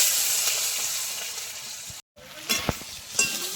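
Potato, eggplant and flat beans frying in oil with five-spice tempering, a steady close sizzle, a brief cut, then renewed sizzling with a few sharp clinks of stirring.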